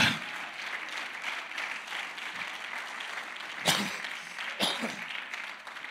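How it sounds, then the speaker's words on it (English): Church congregation clapping hands during a service, a steady dense wash of applause from many people with a few sharper claps standing out. "Clap your hands if you believe."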